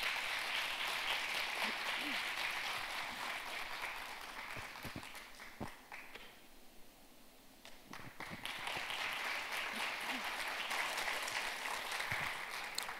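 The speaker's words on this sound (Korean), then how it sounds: "여러분 큰 박수로 환영해 주십시오" A conference audience at a financial conference in Jeonbuk welcomes a speaker with sustained applause, broad and even, dipping briefly in the middle before swelling again, heard from a distance in a large hall.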